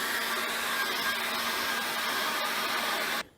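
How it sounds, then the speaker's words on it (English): A small hair dryer blows steadily over an acrylic wolf painting, a constant loud whooshing whine with no talk, then switches off abruptly near the end, leaving quiet. "I got a little hairdryer, so I'm just going to whap the hairdryer over this"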